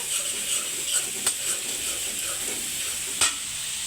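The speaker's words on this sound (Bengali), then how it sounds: "ফুলকপি ভাজি হচ্ছে" Cauliflower stir-frying in a pan, a continuous soft sizzle broken by a few sharp clicks of a utensil against the pan, close and without talk.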